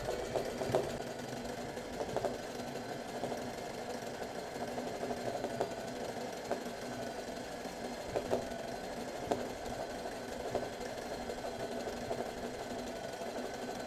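A sewing machine doing free-motion zigzag embroidery of an Art Nouveau flower hums steadily at a fairly low level with fine rapid stitching clatter, running alone without talk.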